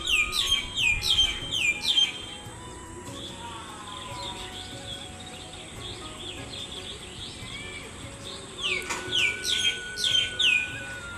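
Birds chirp and tweet in a rooftop garden atop a three-storey building in Bardhaman, with clear bursts of song at the start and again near the end and a softer chorus in between.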